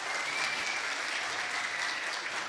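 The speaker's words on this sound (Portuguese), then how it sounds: "Vamos que vamos, salve de palmas para ele." A conference audience at a talk on generative artificial intelligence breaks into applause for a panelist, an even, continuous burst of clapping at moderate distance without speech.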